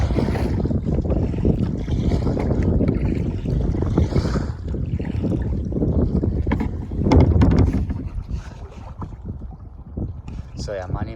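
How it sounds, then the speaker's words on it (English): Strong wind buffets the microphone on a kayak out on icy cold water, a loud steady rushing roar with gusts and water sloshing, while someone talks over it throughout. "Dude, it's getting so windy now."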